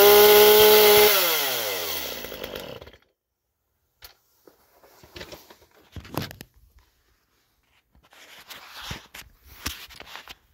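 A Stihl MS-250 chainsaw engine runs briefly, then winds down and dies over about two seconds, followed by quiet handling clunks and footsteps.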